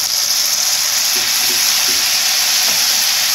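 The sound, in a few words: tomato puree added to fried onions, sizzling in pan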